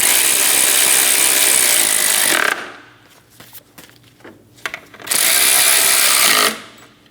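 Power tool snugging down the cover bolts during a timing belt job on a 2005–2009 Subaru Legacy: two loud, harsh bursts of a few seconds each, separated by quieter clicks and handling noise.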